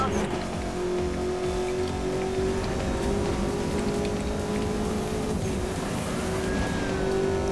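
A car engine revs and accelerates hard in the 2012 racing game Need for Speed Most Wanted, a loud steady roar with rising pitch near the end, while someone talks over it.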